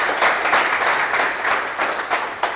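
Audience applause for speakers at a Toastmasters club meeting, a dense, steady wash of many hands clapping that swells and eases in small waves throughout, with no talk over it.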